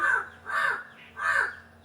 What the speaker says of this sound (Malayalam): കാക്ക ഭയങ്കരമായിട്ട് കരയുണ്ട്